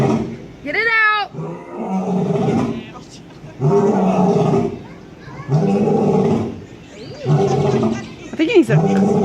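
A lion coughs and roars in a series of harsh, rough bursts spread across the clip, loud and close, trying to bring up a furball, while a person talks in between.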